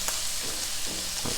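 Crisp carrots sizzling steadily in a hot pan for shepherd's pie, with scraping stir strokes breaking through the frying hiss at a few moments, close and fairly loud.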